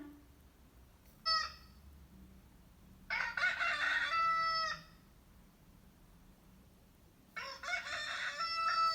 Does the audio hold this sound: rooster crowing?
yes